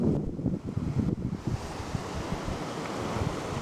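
Ocean surf rolls and breaks along Australia's Limestone Coast, a steady low wash and rumble buffeted by wind noise on the microphone, fairly loud with no voices.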